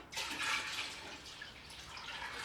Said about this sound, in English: I'm actually just going to put the strained juice back in here.